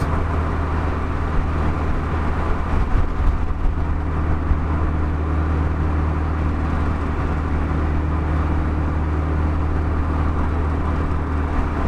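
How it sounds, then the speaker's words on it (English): A Saab 9-5 Aero pulling hard in third gear, its misfires gone, gives a steady, dense engine and road drone from inside the car with no voices over it. "So I'm doing third gear pulls right now, and the misfires are pretty much gone"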